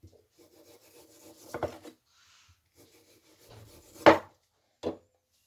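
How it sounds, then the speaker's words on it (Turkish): A knife cuts thin slices from partly frozen chicken, producing a few separate scraping, rasping strokes against a board, close but fairly quiet, with gaps of near silence between cuts. "Şimdi bunları çözülmeden ince ince dilimleyeceğim."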